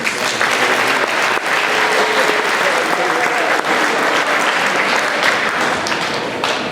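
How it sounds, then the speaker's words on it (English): Loud, sustained applause from an audience at a school bands and choir winter Christmas concert, a dense even wash of clapping that continues throughout. "can we get a quick round of applause for that?"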